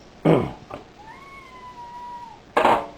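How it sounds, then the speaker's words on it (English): A cat gives one thin, drawn-out meow in a home kitchen, fairly close, set between louder bursts of clattering or rustling at the start and end. "There's a kitty."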